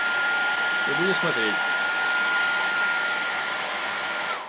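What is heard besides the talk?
repaired hair dryer running at full power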